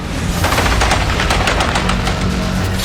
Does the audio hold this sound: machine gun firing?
yes